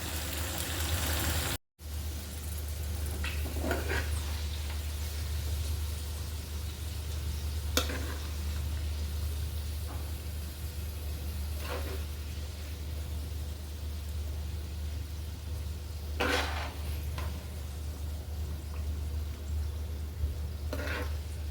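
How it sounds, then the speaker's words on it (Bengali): Fried potatoes and other vegetables crackle in a pan while being stirred, a steady low sizzle broken by occasional spoon scrapes and clinks, with no talk over it. "ভালো মতো একটু ভেজে নিচ্ছি। আলু কিন্তু আমি ভেজে নিয়েছি। এবার আমি বাকি সবজিগুলোর সাথে এগুলো অ্যাড করে দিচ্ছি।"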